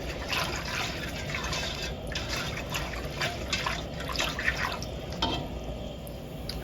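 Sweet tea jelly mixture at a full rolling boil in a pot, a steady close bubbling and churning with scattered liquid pops and drips, continuous and fairly quiet, with no talking.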